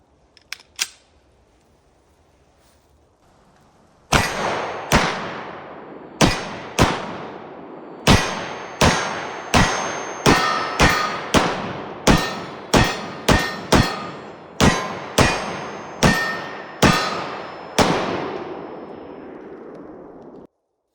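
A CZ P10 9mm pistol fires about eighteen sharp, loud shots in an uneven rapid sequence, each crack ringing briefly, after a couple of faint clicks at the start.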